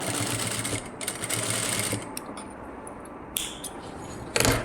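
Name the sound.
sewing machine stitching thread piping on fabric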